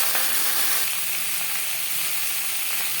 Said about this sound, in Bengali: পটল আমি হালকা করে ভেজে নেব